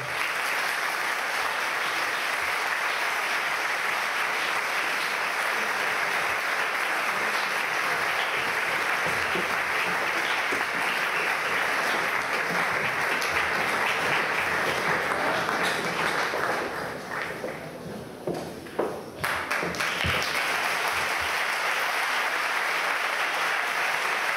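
Sustained applause from an audience at a PechaKucha Night in Ferrol, dense and steady for over twenty seconds, with a brief dip near the end before the clapping swells again.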